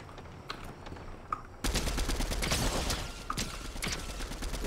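Fortnite gunfire: a few faint isolated shots, then a dense, sustained burst of rapid automatic fire that stays fairly quiet and distant.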